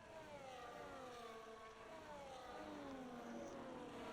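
Aston Martin Vantage race car engine in a racing game, a steady loud drone with rising and falling revs as the car chases the pack on track, accompanied by other engines.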